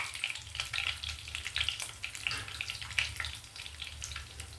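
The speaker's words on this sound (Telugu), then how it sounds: "తిరగమూత వేగిపోయిందండి. ఇప్పుడు దీంట్లో ఇంగు వేస్తానండి." Tempering spices sizzling and frying in hot oil for a tamarind-leaf chutney as asafoetida is added, a steady close crackle with popping bursts.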